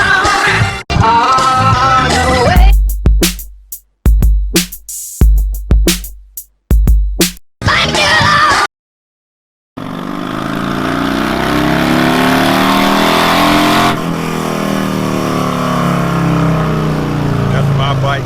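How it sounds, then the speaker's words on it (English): A 2019 Harley-Davidson Street Glide with D&D exhaust runs on a dyno indoors, first heard in choppy bursts, then a sustained loud throttle run that rises in pitch and holds steady to the end. "That's my bike getting done in there. It's in the dyno room and sounds pretty good."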